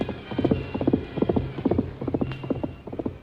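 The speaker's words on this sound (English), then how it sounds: "Silver's hoofs beat out a savage tattoo." Radio-drama hoofbeats of a galloping horse, a rapid, rhythmic clip-clop of hooves pounding over rough ground, close and steady throughout with no voices.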